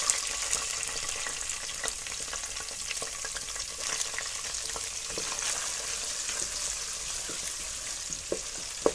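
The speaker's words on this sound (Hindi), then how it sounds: "फर्स्ट हम इसमें डालेंगे प्याज।" Sliced onions frying in oil for masoor dal, a steady bright sizzle filling the pan with faint scattered pops and occasional stirring clicks, close and even throughout.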